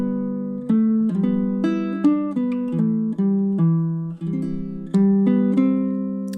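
Baritone ukulele playing a chord-melody arrangement of Danny Boy, with a slow series of strummed and plucked chords ringing out one after another, clear and close with no talking.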